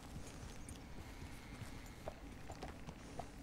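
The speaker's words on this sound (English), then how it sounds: "Let's just ride the horse right through there." Horse hooves clip-clop softly and steadily at a riding pace through open country in Red Dead Redemption 2, faint and even, with no voices over them.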